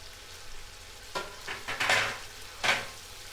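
Yogurt goes into frying ginger-garlic masala for mutton biryani, raising a few bursts of sizzling and stirring over a quiet low hiss, with no voices.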